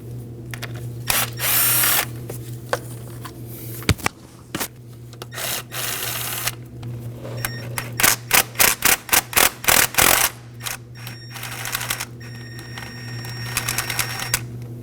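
A power tool backs out the 8mm bolts holding the coil packs to the valve cover on a 2009-2014 Ford F-150 3.5L V6, sounding in short whirring bursts and a rapid run of stuttering pulses, close and fairly loud.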